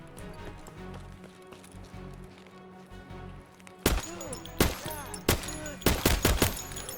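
Gunfire in Escape from Tarkov, hardcore mode, during a fight with scavs: after a few quiet seconds of low ambience, loud sharp shots ring out in several separate bursts, close and echoing.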